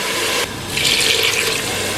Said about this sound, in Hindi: इस मौके पे इसके अंदर हम 2 गिलास पानी शामिल कर रहे हैं।